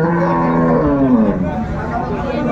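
A cow with her calf moos at a rural cattle market, a long, loud, resonant call rising and falling over steady background market murmur.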